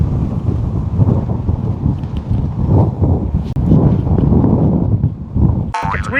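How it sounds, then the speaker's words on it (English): Strong wind buffets the microphone at a coastal lookout in Australia, a continuous loud, gusty low roar throughout with a brief sharp knock near the end. "It's windy."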